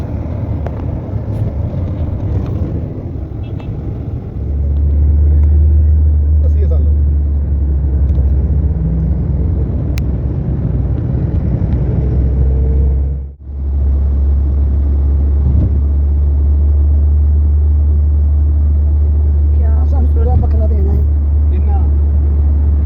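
A car moving through a street during Saudi National Day celebrations, with a loud steady low engine rumble and road noise that briefly dips before resuming, with people talking over it.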